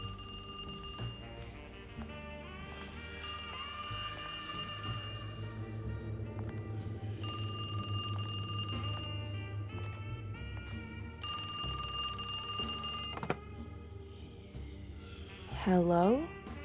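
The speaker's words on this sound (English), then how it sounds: "And the phone goes off." A telephone rings in the Alone in the Dark video game: four evenly spaced bursts of bright, trilling bell tone over a low, steady ambient drone, with a short rising electronic sweep near the end.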